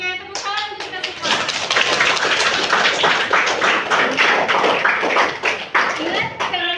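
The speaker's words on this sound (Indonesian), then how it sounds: "Oke, tepuk tangan untuk kita semua." Applause from a 10 MIPA 2 classroom of students, dense clapping that swells after a brief start and holds steady and loud for several seconds before tapering off.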